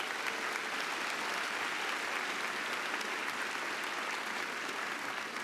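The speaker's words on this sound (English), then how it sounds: "Give them a round of applause." A graduation ceremony audience for the College of Education and Human Development claps in sustained, even applause, many hands blending into a steady roar that holds at constant strength without any talking.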